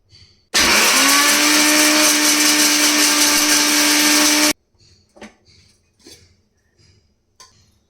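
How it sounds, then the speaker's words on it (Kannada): An electric mixer grinder whirs loudly and steadily for about four seconds as it dry-grinds coconut and almonds into a coarse powder, then cuts off abruptly, leaving a few faint knocks and clinks. "ಹಾಗೆ ತರಿ ತರಿಯಾಗಿ ಪುಡಿ ಮಾಡ್ಕೋಬೇಕು ಇದನ್ನು ಪುಡಿ ಮಾಡ್ಕೊಳ್ತೀನಿ ಈಗ"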